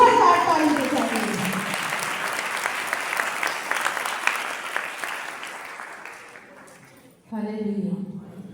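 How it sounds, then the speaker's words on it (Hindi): A church congregation bursts into loud, sustained applause that slowly fades over several seconds, and then a voice resumes speaking. "उस जिंदा खुदा के लिए जोरदार ताली बजाएंगे।"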